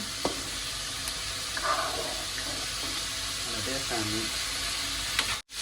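A beetroot dish boils in a pot with a steady, hissing, bubbling simmer that runs without a break. A voice talks over it, then a brief clunk near the end.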